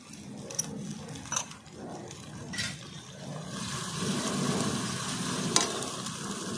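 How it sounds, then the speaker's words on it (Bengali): A ground ginger and cumin paste hits hot oil in a pan, bursting into a bright sizzle that swells and steadies, with a few sharp clinks of a utensil. "আদা জিরে বাটা একসঙ্গে বেটে নিয়েছি এটা দিয়ে দিলাম"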